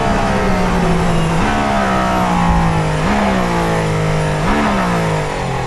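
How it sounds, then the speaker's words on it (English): A Mercedes-AMG ONE's engine revs hard and loud close by as the car accelerates into bends, its pitch climbing steadily and dipping briefly at each of three gear changes. "That is my time driving the AMG One."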